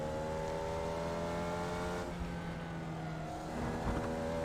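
Formula Vee race car engine at Charlotte Motor Speedway in the iRacing game, a steady buzzing drone holding constant pitch with a slight dip midway, no voices.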